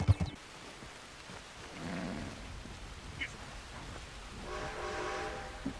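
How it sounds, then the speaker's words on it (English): A passing train in the video game Red Dead Online, a rumbling rail roll with a horn-like tonal blast building in the second half, heard at moderate distance with no talk. "Hey, another train."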